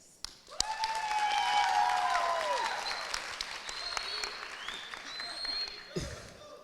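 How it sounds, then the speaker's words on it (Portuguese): An audience at a regional school adolescence event in Brazil claps for several seconds, a dense, near burst of applause that slowly fades, with a few voices and a speaker starting to talk near the end. "Palmas para eles."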